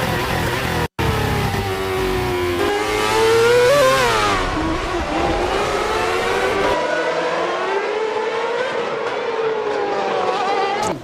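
Formula 1 cars at the Singapore Grand Prix street circuit screaming past at around 150 mph, a loud continuous high-pitched engine wail with pitch sweeps as each car passes and fades.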